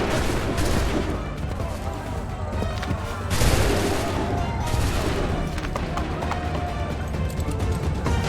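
Musket volleys and scattered gunfire crack through a loud, busy battle scene in Assassin's Creed III, with bursts around three and five seconds over continuous rumble and commotion.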